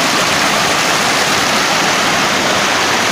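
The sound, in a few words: mountain water flowing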